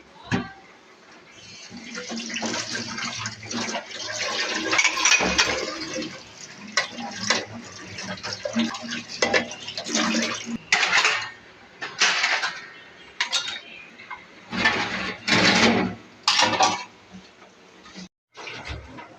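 Tap water running over dishes while washing up in a home kitchen, with pots and cutlery clattering, splashing in uneven bursts and pausing near the end; faint talk in the background.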